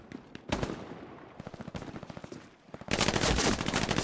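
Machine gun fire in the World War II shooter Hell Let Loose, with a few single shots and short bursts at first, then a sustained loud stream of rapid automatic fire.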